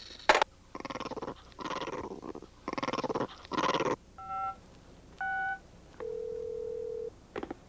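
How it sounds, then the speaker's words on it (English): A car phone being dialed on a 1990 television special: several short tone beeps and a longer steady tone after bursts of buzzy, growly noise, heard close with no one talking. "I hate these car phones."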